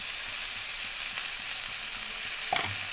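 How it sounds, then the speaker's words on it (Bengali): Goat liver fries with green chili, tomato and ginger-garlic paste in a pan, giving a steady, soft hiss of sizzling with a faint clink of stirring near the end. "এবারে সবগুলোকে একসঙ্গে খুব ভালোভাবে কষিয়ে নিতে হবে"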